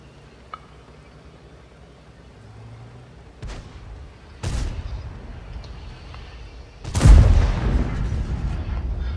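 Tank cannon fire in War Thunder on the Prokhorovka map, a Pz. IV firing at a Type 59: a few booming shots, two sharp ones near the middle and a louder heavy blast near the end, over low rumbling background.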